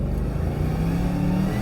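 A Chevelle accelerates from inside the cabin, a loud, steady low engine drone with the pitch gradually rising over a brief stretch, no talk.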